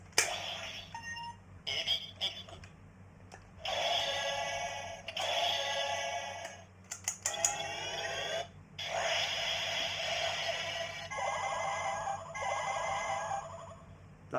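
Electronic toy sound effects from an Ebi origami accessory with lights and sounds, played through an Ebi disc: bursts of bright beeping, alarm-like electronic tones and rapid chirps, loud and close, repeating in separate blasts with short gaps between them.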